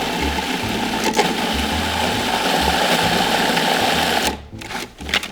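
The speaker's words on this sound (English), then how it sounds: "And just give it a big puree." Blender motor pureeing roasted vegetables, apples and onions with chicken stock, a loud, steady mechanical whir close by that runs for about four seconds before cutting off.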